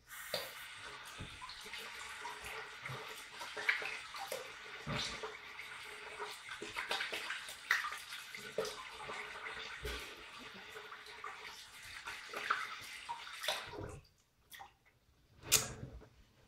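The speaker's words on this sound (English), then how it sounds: "Go ahead and rinse my face." Tap water running in a bathroom sink while a face is rinsed after a wet shave, a steady splashing hiss with brief louder splashes and cupped-hand bursts near the end.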